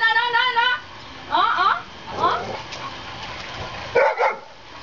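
Dogs bark and yip in short bursts, several sharp barks spaced across the moment, close by, with some background noise between them.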